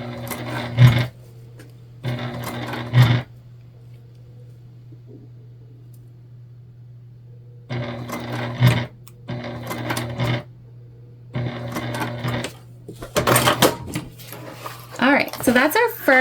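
A sewing machine stitches the flap of a bag in several short bursts of rapid whirring, separated by pauses, with a steady low hum running throughout and talk in between.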